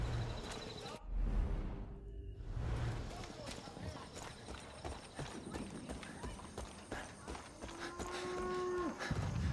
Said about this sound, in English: Bro, these cows need some food.